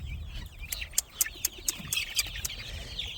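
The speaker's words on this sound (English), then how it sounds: "We got every kind of purebred bird in the world in here." Purebred birds squabble in a homestead pen. A close run of about eight sharp, clipped calls and clucks comes in an uneven rhythm over low background rumble.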